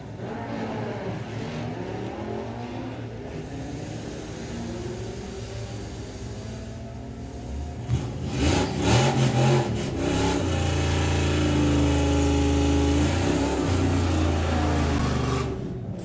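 Drag racing cars at Summer Nationals, including a Mustang, roar loudly and continuously down the strip, with a steady engine drone swelling into a harder revving surge midway and staying strong, close and dominant, no talk.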